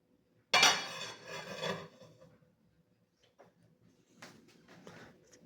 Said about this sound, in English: Give it a little bit of stir.